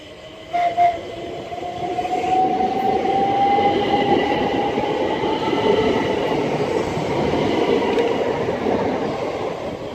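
A train passes on the Chatham Main Line at Newington, rumbling loudly and steadily, with a continuous roar and a faint rising whistle-like tone near the start.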